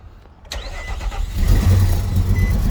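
A 2005-2011 Nissan Frontier with heavy white exhaust smoke cranks and catches, then runs rough and uneven at idle, its close, loud low rumble fluctuating as it struggles to stay running.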